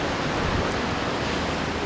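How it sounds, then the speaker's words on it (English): A small man-made waterfall, heard as a steady, close, broadband rush of falling water that stays even and loud throughout with no talk. "I love this little waterfall."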